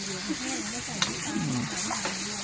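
Pad thai sizzles and crackles in a hot wok at a Thai street food stall, with steady frying hiss and occasional scraping clinks of a spatula, while someone talks over it nearby.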